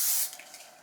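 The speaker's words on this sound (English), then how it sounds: "I'm gonna add a tiny, tiny bit more hairspray to this like top layer." A short burst of hairspray aimed at the top layer of freshly curled long hair, loud and close for a quarter second before trailing off into faint room tone.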